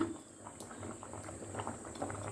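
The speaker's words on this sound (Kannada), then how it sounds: "ನೋಡಿ ಬೇಳೆ ಬೇಯ್ತಾ ಇದೆ" Lentils (dal) bubble in a pot under a plate lid, a soft, low simmering burble with faint popping, close and quiet with no voices.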